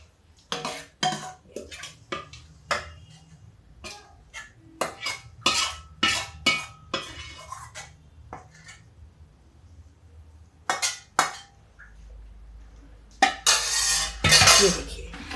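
Spoon and plates clink and scrape repeatedly in irregular bursts while chhole matar, a spiced chickpea and pea curry, is served onto plates. The clinks are close and sharp, followed by a louder rattling clatter near the end.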